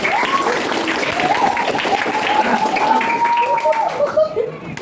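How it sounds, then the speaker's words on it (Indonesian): Classroom students clap together in a dense burst while voices call out over the clapping, close and fairly loud throughout. "Tepuk tangan teman-teman."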